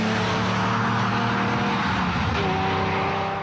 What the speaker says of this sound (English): The car he is driving is a Lamborghini.